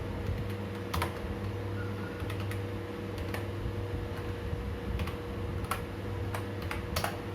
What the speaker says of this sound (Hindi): तो title equal to Harry Potter लिखते हैं।